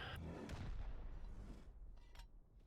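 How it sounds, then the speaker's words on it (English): Homing missile launcher firing in the Rust video game: deep, rumbling launch booms and blasts, fairly faint, rolling one into another with a couple of sharper cracks toward the end. "And so that is the homing missile launcher."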